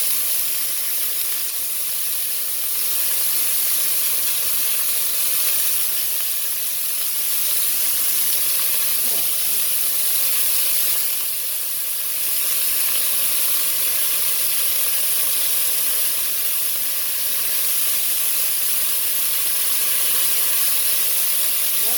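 Beef stew meat browns in a pan with a steady, loud sizzle that runs without a break. A constant hiss and the hum of a kitchen fan sit beneath it.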